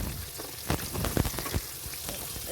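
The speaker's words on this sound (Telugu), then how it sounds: "నేనైతే మామూలు వంకాయలే ఫ్రై చేస్తున్నాను" Brinjals (eggplants) fry in hot oil with a soft, steady sizzle and a few sharper pops and stirring knocks, close and moderately quiet.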